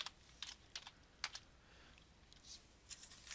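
Quiet clusters of computer keyboard keystrokes tapped in short irregular bursts with brief pauses between, close and faint against a low background hiss while accounting figures are entered.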